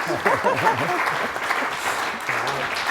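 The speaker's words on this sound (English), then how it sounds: "give a round of applause" An audience at a federal contracting panel session claps in a steady round of applause, with a voice speaking over the clapping throughout.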